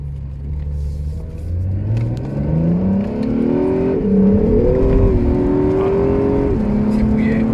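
A yellow second-generation Honda NSX accelerates hard from a standstill, its engine note climbing steadily through the gears, loud and close from inside the cabin, with voices talking over it.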